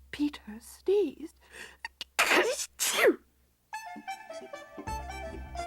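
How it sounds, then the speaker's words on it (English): A sneeze voiced by a storyteller reading a Peter Rabbit tale, a breathy whispered build-up and sharp burst amid hushed narration, followed by tinkly instrumental music. "Presently, Peter sneezed."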